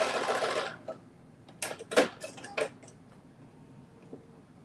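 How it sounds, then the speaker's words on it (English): A sewing machine running a back stitch, with a short burst of rapid whirring followed by several brief bursts of stitching and mechanical clicks, close and quiet. "And then doing a back stitch."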